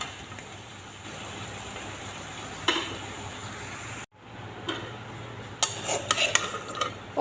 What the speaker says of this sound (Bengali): শুধু হলুদ মাখাইয়া তেলের মধ্যে প্রথমে ভাজি দেই